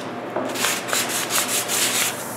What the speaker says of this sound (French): je dévisse tous les morceaux et je sable légèrement les pattes et les crochets